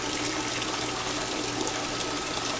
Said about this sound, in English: Now I'm going to drain this off. Come over here. And I drain it off till it's almost down to a trickle.